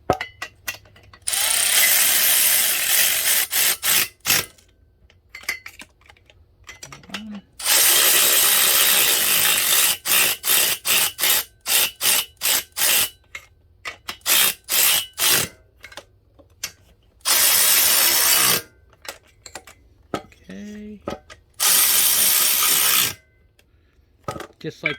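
A Milwaukee M12 cordless ratchet drives bolts down on a Kawasaki KE175 motorcycle engine, with loud close bursts of rapid ratcheting whir, some a few seconds long and others short blips, separated by brief pauses.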